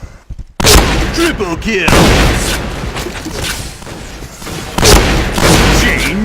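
Shotgun blasts in the first-person shooter Point Blank on the Burning Hall map in shotgun mode, loud booming shots in quick succession over game sound effects and a brief announcer voice.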